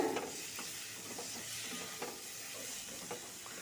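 Yam curry with dried fenugreek leaves (kasuri methi) being stirred and sautéed in hot oil gives a steady close sizzle, with soft scraping stirs and small spatula taps throughout.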